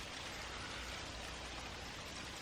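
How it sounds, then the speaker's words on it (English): Snow or hail falling steadily outdoors, a dense, continuous hiss of small particles at moderate level with no voices. "Is that snow or hail or something?"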